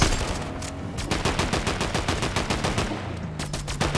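Rapid automatic gunfire in Fortnite, loud and close, a continuous stream of evenly spaced shots running the whole time with only a brief thinning near the end, no talk.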